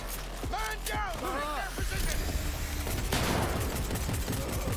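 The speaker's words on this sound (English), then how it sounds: "I just shot the grenade out of him" Gunfire in the video game Cyberpunk 2077, dense overlapping shots in a loud continuous fusillade, with synthetic tones and mechanical clatter mixed in and no talk in the clip.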